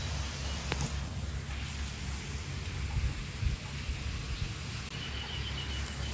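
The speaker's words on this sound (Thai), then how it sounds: "เพื่อนๆตอนนี้ฝนตกนะคะ บ้านพี่กันฝนตกนะคะ" Rain falling outside a rural house, a steady, diffuse hiss with a low rumbling undertone, fairly quiet and continuous, with no talking.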